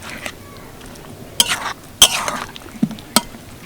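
A spoon stirs potato curry with tomato and chopped green chilli in a pan, giving a few sharp scrapes and clinks spread over a few seconds against a low sizzling background.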